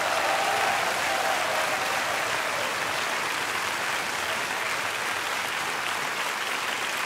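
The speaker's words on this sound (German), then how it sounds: "Nochmal einen herzlichen Applaus" Warm audience applause at a folk music show for a piano accompanist, a continuous, even wash of clapping from a full room lasting the whole stretch.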